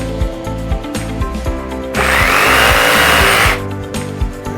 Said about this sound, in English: I get the corners with the jigsaw